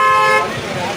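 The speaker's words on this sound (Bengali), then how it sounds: "রিক্সাটা হর্ন দিচ্ছে দেখো।" A rickshaw horn in a Kolkata park sounds one short, loud, tonal honk, with a voice talking over it and outdoor noise continuing after it.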